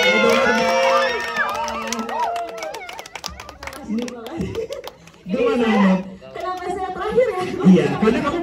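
At a press conference for a drama series, a crowd cheers and shouts with scattered clapping, rising and falling in bursts, while people talk over it.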